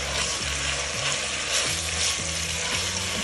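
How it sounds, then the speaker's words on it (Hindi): Green chillies and curry leaves fry with a constant sizzle while a spoon stirs them, scraping in several short strokes close by, with no speech. "फिर हम इसको थोड़ा सा चम्मच चलाएंगे ताकि ये सब चीज़ें मिक्स हो जाएं।"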